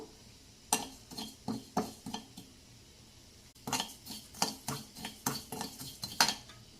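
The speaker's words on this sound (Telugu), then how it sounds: "ఇప్పుడు మనం జీలకర్ర వేయించుకుందాము" Cumin seeds dry-roasting in a pan for amla pickle, stirred with a utensil: a series of sharp metallic scrapes and clinks against the pan in two bursts, close and fairly loud, with a faint crackle underneath and no talking.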